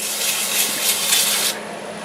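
Sandpaper rubs back and forth over hazel wood to work up a slurry, a close, steady rasping scrape in rhythmic strokes that drops slightly in level near the end.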